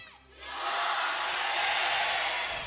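An esports arena crowd at the 2023 League of Legends World Championship, T1 versus Cloud9, swells into loud, sustained cheering and whooping that holds for a couple of seconds.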